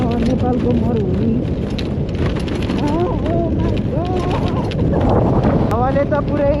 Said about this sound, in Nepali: हावाले त पुरै गाडी उडाउने रहेछ हौ